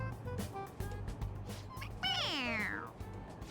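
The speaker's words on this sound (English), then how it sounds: "It meows when you press on its head." A toy cat from Persona 5 Royal lets out a single clear, rising-then-falling electronic meow when its head is pressed, heard over steady game background music.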